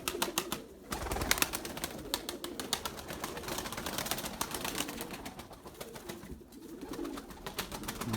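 White pigeons coo in a low, steady murmur throughout, layered with busy rustling and scattered bird movement, moderately near and without speech.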